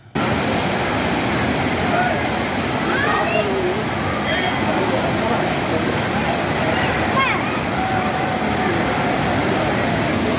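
A forest stream in the hills feeding Manimuthar dam rushes loudly and continuously, a dense, close watery roar that fills the whole stretch.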